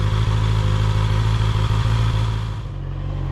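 A Honda CB650R motorcycle engine runs steadily and loudly up close in a parking lot, with a deep, even idle hum and light mechanical clatter that eases slightly toward the end.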